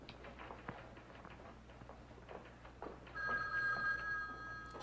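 A telephone bell rings inside a video game, a bright electronic trill that comes in partway through over quiet footsteps and soft game background.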